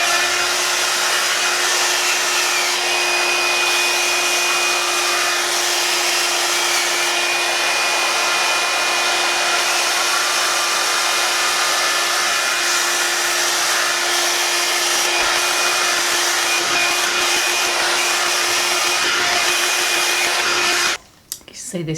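A Babyliss Big Hair hot air brush drying hair gives a loud, steady whirring blow with a constant whine, running nonstop up close before briefly cutting out at the very end.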